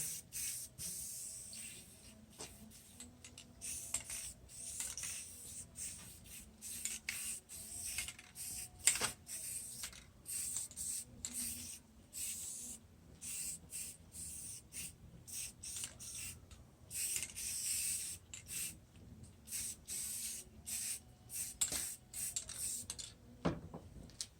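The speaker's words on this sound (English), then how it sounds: "we're just applying a couple of coats of paint on here" Paint goes onto window grids in repeated short hissing spray bursts, faint and close, separated by brief quiet gaps, with no talking.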